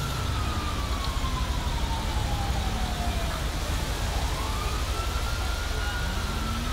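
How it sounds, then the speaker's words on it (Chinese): Police siren in the video game GTA 5 with the LSPDFR police mod, faint rising and falling wails drifting beneath constant loud traffic and engine noise. "我听到警笛声了"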